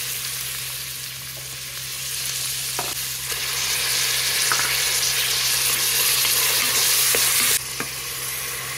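Sliced onions and onion paste fry in oil for mutton curry, a loud close sizzle that swells midway, with occasional clinks and scrapes of a spoon stirring and no speech.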